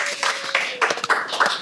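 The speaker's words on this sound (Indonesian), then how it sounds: "tepuk tangan." Audience at a talk event clapping together, a brief burst of close, fairly loud applause with uneven hand claps that fade and swell across its short span.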